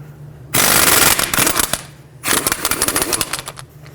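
An impact wrench loosens the axle nut on a Toyota Camry in two loud, close bursts of rapid hammering rattle, a short pause between them.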